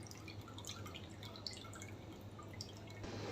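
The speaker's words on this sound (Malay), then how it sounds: "kita asingkan serai yang sudah dikisar tadi dan kita ambil air kisarannya untuk kita masukkan ke dalam ayam kita nanti" Juice strained from blended lemongrass drips quietly for a spiced fried chicken dish, small irregular drops falling close by at low volume with no talk.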